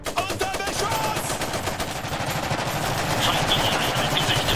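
Machine gun fire in the real-time strategy game Iron Harvest, a dense continuous rattle of rapid shots with battlefield noise throughout, loud and sustained.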